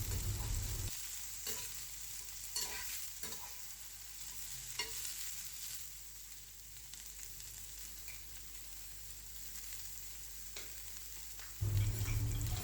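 Long beans with salt and turmeric being stirred in a hot pan, a steady close sizzle broken by a few sharp scrapes and clacks of the spoon, with a louder burst of frying near the end and no talk.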